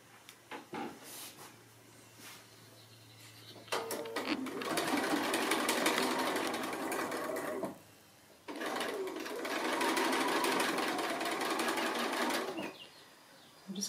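A sewing machine stitching quilt block pieces together, running in two steady whirring bursts of several seconds each with short pauses and small handling clicks between, close and clear.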